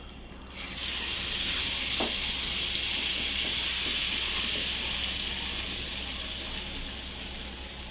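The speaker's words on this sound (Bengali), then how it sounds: "এবার এর মধ্যে এই তেলটা দিয়ে দেবো।" Mustard oil poured into a pan for mango pickle with the gas off, bursting into a loud, close hissing sizzle that holds steady and then slowly fades.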